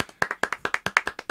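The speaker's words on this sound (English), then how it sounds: "can I get some applause for our technician, par none, Paul Roberts?" Crisp hand clapping from a small audience honoring a technician named Paul Roberts, a steady run of about a dozen sharp, evenly spaced claps, fairly close and alone without talk.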